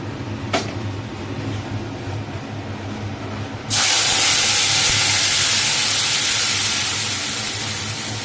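Ground spice paste hitting hot oil with bay leaf: a faint background hum with a brief tap, then a sudden loud, bright hiss that bursts in and holds steady, easing off slightly.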